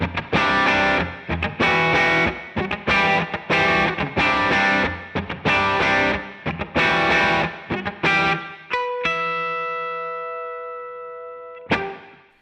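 An electric guitar plays a choppy, driven riff through a Marshall Bluesbreaker overdrive pedal, with rhythmic distorted bursts for about eight seconds before one long ringing chord sustains and fades, loud and close with no talking.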